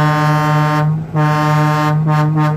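Vehicle horns honk in a loud roadside salute for veteran paratroopers in Itaipuaçu, Rio de Janeiro, as one long sustained blast with a brief dip and then a few quick breaks near the end.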